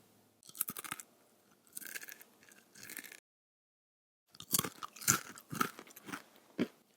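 Crisp, loud crunching of stale chips revived by baking at 400 degrees, chewed close to the mouth in two bursts of bites separated by a short silent pause, with no talking.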